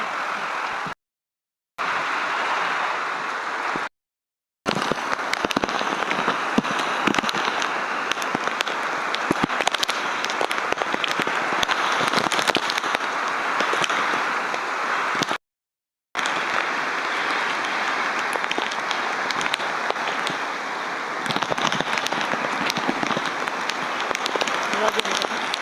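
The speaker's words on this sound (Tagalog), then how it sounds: "malakas ng ulan, malakas yung hangin." Heavy rain lashes down as Typhoon Pepito blows through a flooded town, a dense, loud, steady hiss with gusting wind, broken by several short drops to total silence.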